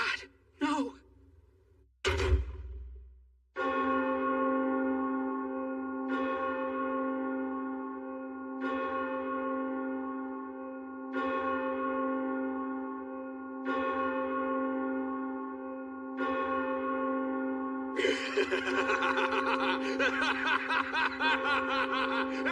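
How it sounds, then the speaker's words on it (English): Church bells toll slowly and resonantly, about seven evenly spaced strokes, followed by a busier clamor of bells; brief vocal sounds come first. "Even the bells of Christmas are ringing. They chime in celebration of my victory."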